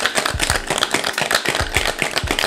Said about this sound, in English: You want to shake it about 10 to 15 seconds. Break up the ice, get it nice and chilled.